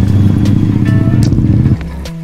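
A motorbike ridden up a snowy mountain road toward Khaliya Top near Munsyari puts out a steady, close engine drone that drops off sharply toward the end.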